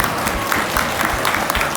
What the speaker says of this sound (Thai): ขอเสียงปรบมือให้ท่าน ผู้กำกับเลย